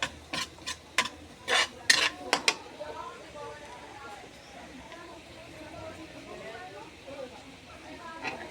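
Garlic sautéing in a pan as a simple Filipino lunch is cooked: a few sharp clatters and stirring knocks at the start, then a steady, fairly quiet sizzle with light background noise.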